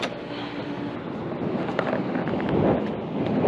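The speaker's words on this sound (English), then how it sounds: "Nice, windy." Outdoor wind buffeting a microphone, a steady broadband rush that swells and gusts louder toward the end, with no talking.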